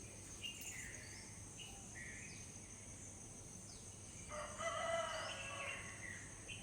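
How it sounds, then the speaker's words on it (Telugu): A rooster crows at a distance at dawn in light rain against a steady hum of insects, with other fowl calling faintly in the background. "లేవండి ఇంకా తెల్లవారింది అని అని పిలుస్తున్న కోడి"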